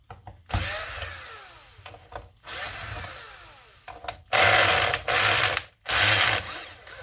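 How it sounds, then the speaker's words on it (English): Electric screwdriver set to torque level 4 removing short T10 screws from an Xbox Series S console, whirring in several bursts of ratcheting, clicking drive with brief pauses between them, close and fairly loud. "so I set my screwdriver here to 4"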